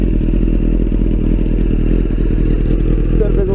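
A 2003 Suzuki Bandit GSF 600 with a Delkevic 200mm shorty exhaust idles loud and close, a steady lumpy engine burble with a slight rev near the end and no talking.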